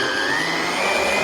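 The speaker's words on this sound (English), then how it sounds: "Put all this together in the mixer and blend. I've used the NutriBullet," NutriBullet blender whirring as it blends a keto brownie mixture, a loud, steady high-pitched motor drone running continuously and close up.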